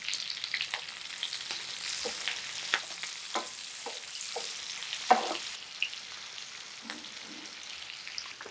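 Onions frying in a pan for prawns Manchurian, a faint, soft sizzle with scattered light taps and scrapes of stirring, no talk.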